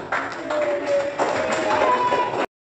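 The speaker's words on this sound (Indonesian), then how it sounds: "Oke, tepuk tangan" A classroom of students claps hands together, a fairly close, steady burst of clapping with some voices mixed in, stopping abruptly.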